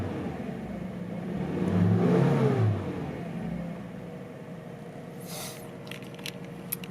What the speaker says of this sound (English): Starts right up, and yeah, the nice thing about this engine is that it's so quiet.